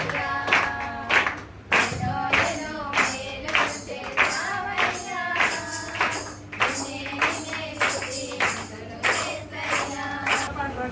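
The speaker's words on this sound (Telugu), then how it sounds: "చప్పట్లు కొట్టాలి, పాట పాడతాయి" A congregation at a midnight Christian prayer meeting clapping hands in steady rhythm along with a sung prayer song, the voices carrying the melody over the beat.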